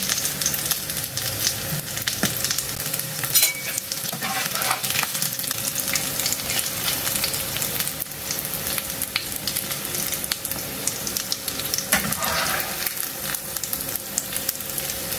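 Kebabs fry in oil until golden for a Pakistani Sunday lunch, a dense, continuous close sizzle with scattered pops and stirring clatter throughout.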